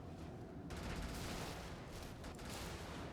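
Heavy tank cannon fire in the Brigador game, a dense rumbling barrage of booming blasts that swells loud after a brief quieter start and holds steady throughout, with no talking.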